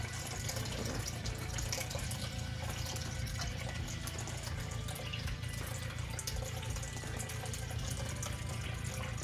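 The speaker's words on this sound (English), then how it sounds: "You want to put some water in this and get it?" Water poured into a juicer to rinse it, a steady loud splashing and running-water rush that continues unbroken throughout with no speech.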